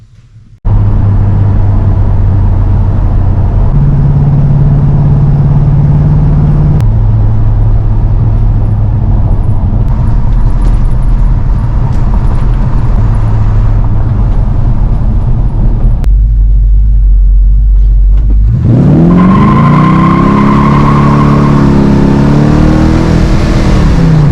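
A car engine with a freshly recored radiator runs steadily with shifting pitch while driving, then revs up sharply near the end with a rising whine, loud and close.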